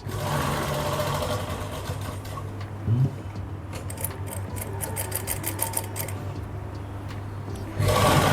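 A sewing machine stitches lace onto the edge of a dupatta, running continuously and close up with a fast steady whir. A brief pause and a heavier clunk come partway through, and it revs up again at the end.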